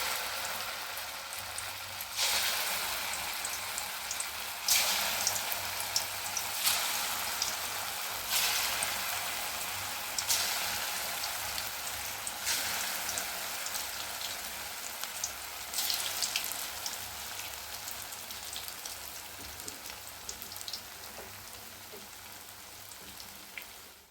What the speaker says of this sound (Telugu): ఒక్కొక్కటి వేసి డీప్ ఫ్రై చేసుకుందాం